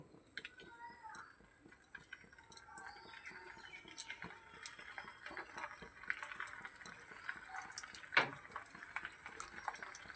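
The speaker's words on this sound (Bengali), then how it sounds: "এবার আমি পকোড়াগুলো ভেজে নেব।" Flattened-rice (chira) pakoras frying in hot oil: a quiet, continuous crackle and spatter of small pops with occasional louder bursts, heard close up beneath a softly speaking voice.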